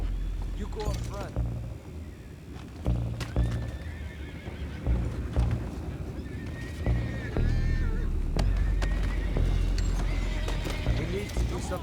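Horses in a Red Dead Redemption 2 game scene whinny and neigh repeatedly while hooves clop steadily close by, with a voice talking over the commotion throughout.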